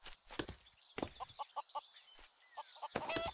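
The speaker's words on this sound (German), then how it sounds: "Achso, die Hühner sind da." Chickens in the video game Craft the World cluck in quick rhythmic bursts of short calls, mixed with other game sound effects and clicks, fairly close and clear with no speech.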